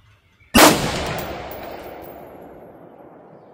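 A single rifle shot of AAC 77-grain open-tip-match 5.56x45 NATO ammunition fired over a chronograph, a sharp loud crack followed by a long decaying echo, with no talking.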